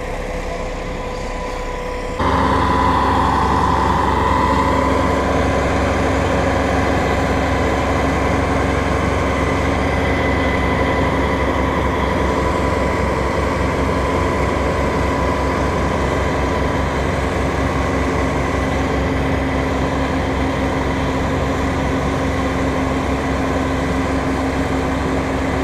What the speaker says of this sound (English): Those hydraulics are really something.